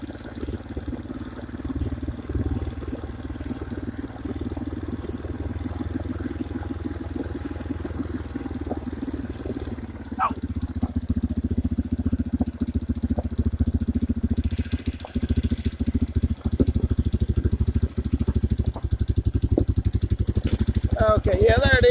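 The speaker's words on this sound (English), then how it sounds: "coming down the hill on four-wheeler" A four-wheeler ATV engine drives down a hill on a rural road near a cabin, a steady, close, low rumble that grows louder and rougher about halfway through.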